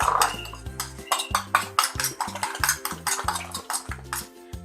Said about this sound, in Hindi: अब इसको फिर फेंट लेंगे, मिक्स कर लेंगे। अच्छी तरह फेंटेंगे खूब।